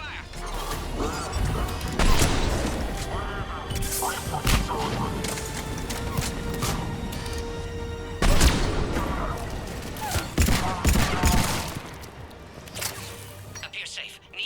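Gunfire and heavy impacts from an attack on a pod in the video game Mass Effect 3, Legendary Edition, with repeated loud bursts and crashes over a dense mechanical din while voices talk throughout.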